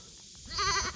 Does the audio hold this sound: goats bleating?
yes